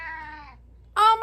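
A black cat meows twice, a drawn-out call followed after a short pause by a louder, sharper meow, close and clear with no talking.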